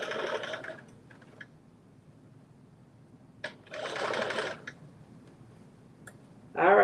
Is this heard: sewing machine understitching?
yes